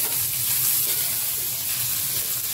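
Onion fries in oil in a pan in a home kitchen, giving a steady, even sizzle with a soft watery hiss that holds constant throughout, with no talk.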